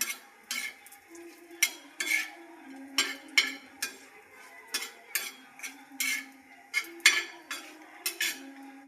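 Cumin and garam masala dry-roasting in a pan for a tilapia fish curry, a spatula scraping and clinking in a steady, repeated stirring rhythm, close and moderately loud with no talk.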